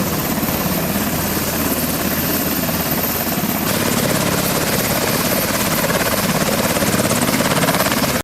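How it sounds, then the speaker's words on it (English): Steady, loud helicopter rotor and engine roar from two UH-60 Black Hawks landing fills the whole clip, a constant broadband wash with throbbing low end, close by and without voices. "two UH-60 Black Hawk helicopters set down and offloaded additional Marine security personnel"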